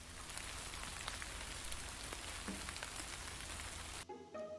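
Rain falls steadily on a surface as a dense, even patter of drops, close and moderately loud, ending abruptly near the end where a different quieter tone takes over.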